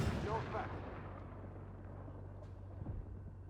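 The AMX-10 RCR's cannon in Armored Warfare fires once at the very start, a heavy boom that decays into a long rumbling tail over a steady low engine drone, with someone talking faintly.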